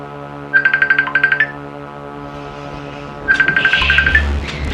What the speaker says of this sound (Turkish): bakın beni Sean Borg FaceTime arıyor